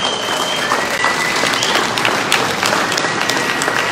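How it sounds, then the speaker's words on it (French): An audience applauds the president loudly and continuously, a close, dense patter of many hands with a few sharper individual claps standing out. "Applaudissements très forts pour le président"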